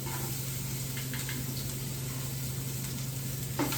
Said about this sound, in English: And then we'll add our 3 cloves of chopped or minced garlic